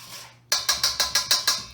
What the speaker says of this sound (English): So we're just going to whisk this all together.